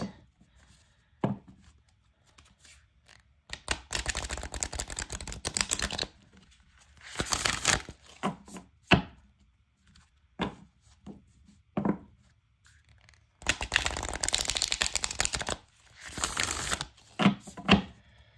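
Repeated bursts of riffle-shuffling cards, each lasting a second or two, separated by quieter pauses with a few light taps and flicks; close and fairly crisp.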